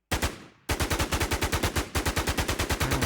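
Automatic gunfire from a shooting video game, a loud, close, steady stream of rapid evenly spaced shots after a single opening blast and a brief pause, with no talking.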